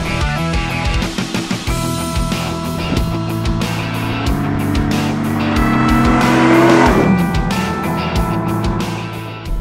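A supercharged Ford Mustang GT500 accelerates hard, its engine revving loudly up through the gears with rising whine and sharp shift breaks, close and dominant with some tire noise.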